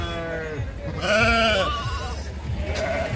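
Several sheep bleat at a livestock market at Gudur: a few long, wavering calls that overlap one another, close and fairly loud over a low murmur of background crowd noise.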